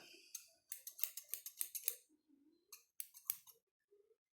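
Small scissors snip in quick bursts, a rapid series of sharp close clicks and cuts, then a pause and a few more snips, with faint murmuring between.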